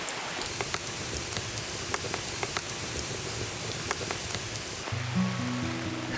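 Steady rain pours down outside a rural earthen house, a dense, even hiss of drops striking surfaces that continues throughout with no voices.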